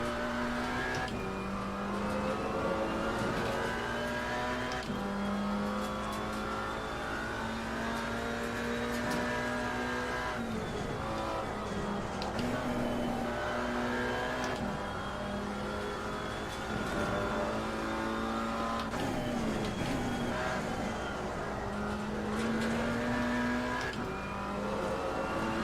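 BMW GT4 race car at Kyalami in a racing game, the engine droning steadily and revving up through gear changes over a continuous, moderately loud run with faint tire and wind noise.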